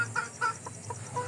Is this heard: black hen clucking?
yes